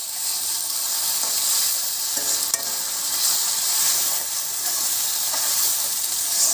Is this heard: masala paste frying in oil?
yes